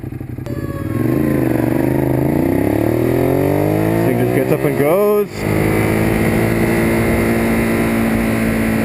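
A Ducati Monster 821 motorcycle revs loudly up close as it is ridden, the engine pitch climbing through gears with a sharp drop at a shift, while the rider talks over the noise.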